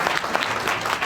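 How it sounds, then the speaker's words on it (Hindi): An audience bursts into applause at a Safe Shop prospecting training talk, with steady, dense clapping that fills the whole moment without pause. "तो जोरदार ताली होना चाहिए सभी के लिए,"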